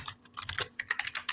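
Brisk typing of code on a computer keyboard in a Notepad editor, with fast, irregular clicking keystrokes close up and no voices.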